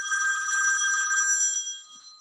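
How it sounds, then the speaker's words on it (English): A telephone bell rings in one steady, bright electronic trill for about two seconds, then cuts off, clear and fairly close with no talking over it. "somebody has a phone call."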